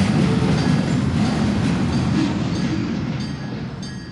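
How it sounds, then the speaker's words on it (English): A train rolls past in a video game, a loud, steady rumble with rail clatter holding for several seconds and easing off slightly toward the end, with no voices over it. "You ran over by the train."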